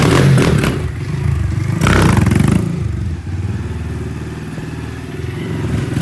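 Loud fuel-injected motorcycle engine revving up close in bursts, rising and falling, with some clattering and scraping between the revs.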